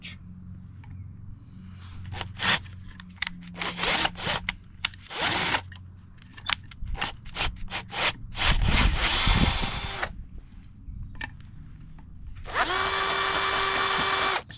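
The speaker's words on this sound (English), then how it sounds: "It's not how you normally deburr stuff, but I've got a flappy disc, so that'll do." A flap disc grinds the edges of a Nissan 300ZX brake part in a string of short, harsh bursts and longer abrasive runs, loud and close, with a grinder whining freely in the last seconds.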